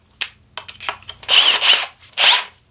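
A Kobalt 24V brushless drill driver pushes a 1.5-inch paddle bit into a 4x4, giving several short, loud whirring bursts with rough chewing of wood, the longer surges closing out the drilling.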